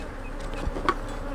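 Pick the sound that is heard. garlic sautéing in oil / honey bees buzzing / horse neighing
honey bees buzzing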